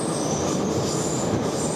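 A Tashkent metro train runs through the tunnel with a loud, continuous rumble and steady high-pitched wheel squeal, heard from inside the carriage with no talk over it.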